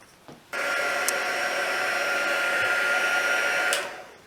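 A hair dryer blows close by for about three seconds as it dries coats of decoupage glue on a rock, with a steady loud whir that starts abruptly and fades out, without talk.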